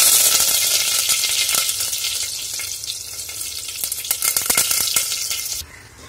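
Eight to ten washed curry leaves and a pinch of asafoetida hit hot oil in a pan, giving a loud, bright crackling sizzle that settles gradually before dropping off sharply at the end.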